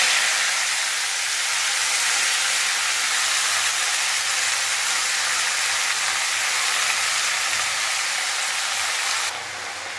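Mustard greens and five-spice (panch phoron) frying in hot oil give a steady, dense sizzling hiss that holds evenly throughout and dips slightly at the very end.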